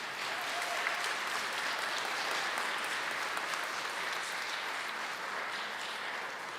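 Steady applause from a church congregation at a Sunday Advent Mass fills the whole stretch, a dense, even patter of many hands clapping with no voices standing out.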